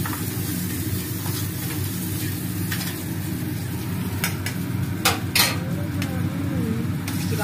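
Chopped garlic, carrot, onion and beans sizzling in hot salted oil in a pan for momos, a steady close frying hiss with occasional clinks of a utensil against the pan.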